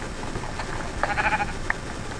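A sheep in the video game Minecraft lets out a short bleat partway through, followed by a brief second cry, over a quiet background with no talk.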